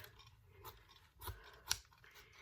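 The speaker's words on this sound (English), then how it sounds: "my scissors, I'm just going to trim them a little bit" A few quiet, crisp snips of scissors trimming fabric during string piecing, two sharper cuts standing out near the end, with soft handling noise between.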